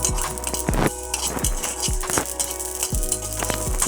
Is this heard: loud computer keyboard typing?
no